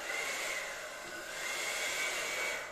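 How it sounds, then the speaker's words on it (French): A hair dryer blows over poured fluid art paint in a Dutch pour, giving a steady, even airy rush at close range with no talking. "est-ce que je mets mon sèche-cheveux en vitesse forte ou en vitesse pas forte?"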